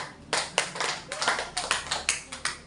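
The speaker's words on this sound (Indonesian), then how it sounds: "Tepuk tangan buat kelompok 3." Fifth-grade pupils in an elementary school classroom clap for a student group, about ten fairly crisp, distinct claps in an uneven rhythm, close and moderately loud over a quiet room.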